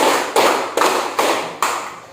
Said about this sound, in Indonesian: Tepuk 1, tepuk 2, tepuk 3, tepuk 4.